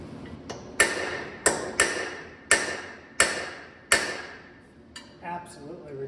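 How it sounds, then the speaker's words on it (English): Hammer beating on seized, locked-up bolts of a 14 bolt differential during a regear, six sharp ringing metallic strikes at an uneven pace, close and loud, with a brief scuffle and a murmur of voice near the end. "I'm going to have to use a hammer and beat on these to get those cut loose"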